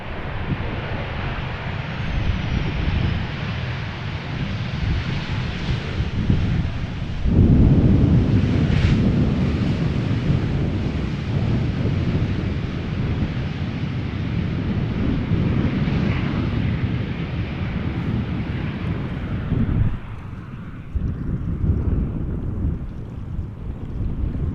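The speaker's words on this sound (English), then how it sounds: "This is KLM flight 1230, one of the many flights between Paris, Charles de Gaulle and Amsterdam. 737-800" A KLM Boeing 737-800 airliner on a Paris Charles de Gaulle to Amsterdam flight arriving at Amsterdam Schiphol roars with a broad, steady rumble and wind-like rush throughout, loud and sustained without speech.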